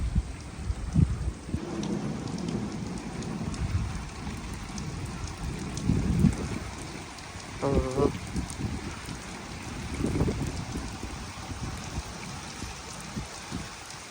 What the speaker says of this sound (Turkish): Bastırdı yağmur.